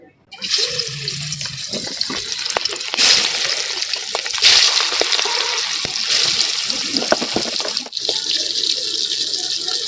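Loud, steady crackling sizzle of hilsa fish frying in hot oil in a wok, dense and close, with brief surges and a short dip near the end; no voices.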